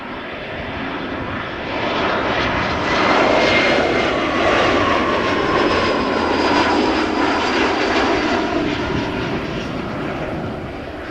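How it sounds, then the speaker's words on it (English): A Boeing 777 jet airliner approaching Amsterdam Schiphol, a loud, sustained engine roar that swells and holds steady without any talk. "there is a 777 closing in"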